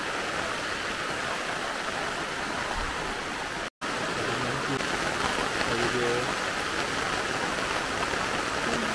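Steady, dense rain pours onto a leaking tent at a campsite in Karak, Pahang, at night, a continuous close hiss with one brief dropout and faint voices murmuring beneath it.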